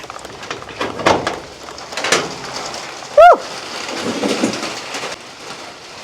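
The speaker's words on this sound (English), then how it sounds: "Rain's cold." Steady rain patters outdoors with soft uneven gusts, broken briefly by a short high squeak partway through; no speech.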